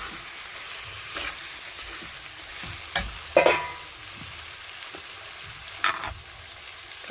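Chopped tomatoes frying in a pan with a low, steady sizzle, broken by a few sharp scrapes and clanks of a spoon stirring them, close and fairly quiet, no voices.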